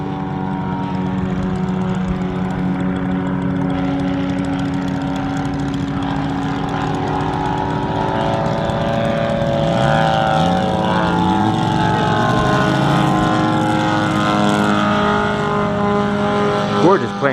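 A weathered, detailed radio-controlled scale Douglas SBD Dauntless flies at the Joe Nall 2025 model event, its engine a sustained droning buzz that rises and sweeps in pitch as the plane passes, fairly steady against open-air background noise.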